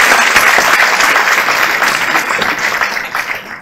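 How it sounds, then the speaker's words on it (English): An audience applauds at an academic year opening and alumni award ceremony, with dense, sustained clapping from a large crowd that stays loud throughout and eases slightly toward the end. "and I would like a little applause."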